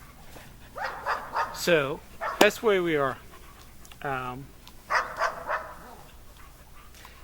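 A small dog yaps and whines in short bursts close by, several high-pitched barks scattered among panting, with a person talking over it indoors.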